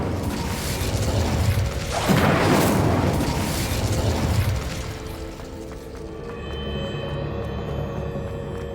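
An Incendio fire spell cast in the Hogwarts Legacy video game erupts as a loud, roaring burst about two seconds in, rumbles for a couple of seconds, then gives way to quieter ambient game sound.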